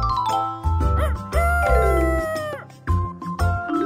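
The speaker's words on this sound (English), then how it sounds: "Mr. Rooster crows to wake everyone up at day." A cartoonish rooster crow from the Baby Panda World puzzle game rings out in a few bright, rising and falling calls, mixed with chiming game effects and a bouncy backing tune.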